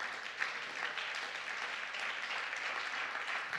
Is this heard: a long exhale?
no